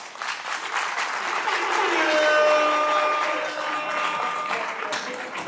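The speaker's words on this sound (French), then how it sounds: "Merci d'applaudir pour l'ACTP." An audience at an anniversary gathering in Poitiers claps together in warm, full applause that swells and then eases, with faint voices mixed in.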